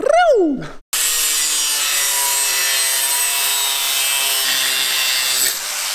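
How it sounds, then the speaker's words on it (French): An angle grinder cuts scrap steel while bodywork on a Ford 4000 tractor is being restored. After a brief whine it drops for a moment, then settles into a loud, continuous, close-up grinding shriek that runs to the end. "Et après, petit coup de squeuse dessus."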